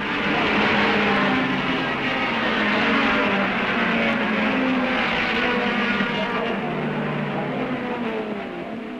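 1968 British Saloon Car Championship field on the opening lap, with cars like a Ford Falcon and Ford Escorts: a continuous loud roar of several engines blending together, steady throughout with no pauses.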